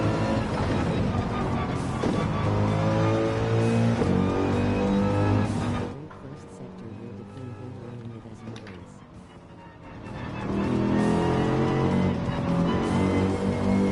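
A race car engine in Gran Turismo 7 roars at high revs, fades and drops away under hard trail braking into a corner, then climbs back to a loud sustained whine; a voice talks over parts of it.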